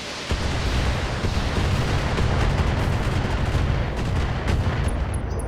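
Mech weapons fire in a BattleTech battle, a dense, continuous barrage of booming blasts and rapid gunfire that roars without pause, loud and close, with no talk over it.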